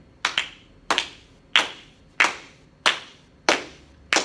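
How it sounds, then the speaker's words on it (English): Sharp hand claps repeat in an even, syncopated pattern, with about seven crisp pairs of claps close together and nothing else in between, as a group keeps time together in a rhythm lesson. "I'm going to start clapping, and I want you to start clapping with me in the same time"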